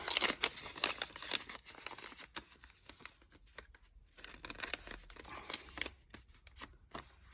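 Paper pocket in a junk journal having its closure cut off, a run of crisp crinkling, snipping and rustling paper handling, close and quiet with uneven bursts and short pauses.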